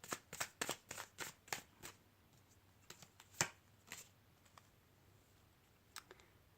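Cards being shuffled in a quick run of crisp riffles, then a few softer scattered flicks and taps, fairly quiet and close.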